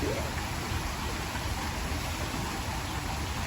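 Steady rain falling outside, a continuous hiss of drops with no breaks, moderately loud and even throughout with no voices over it.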